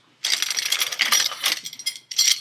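Metal clamps going back onto pressurized XERO Pure MAX membrane housings, a run of sharp metallic clinks and rattles in quick bursts, close and with no talk.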